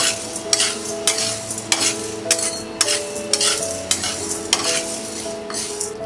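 Toor dal and urad dal frying in hot oil, a steady sizzle under a regular rhythm of metal spoon strokes scraping and clinking against the pan, close and fairly loud.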